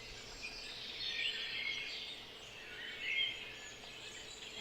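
A bird calls outdoors in two bright, warbling phrases separated by a short pause, fairly faint and set against a quiet open background.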